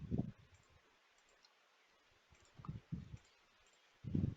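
A computer mouse clicks in a quiet room, with a few short soft clicks spaced out over several seconds and faint low thumps between them.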